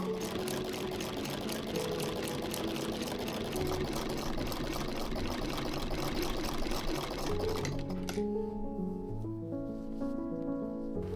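A sewing machine hemming trouser panels runs in a steady fast whirring chatter for several seconds, then the stitching stops and soft background music carries on alone.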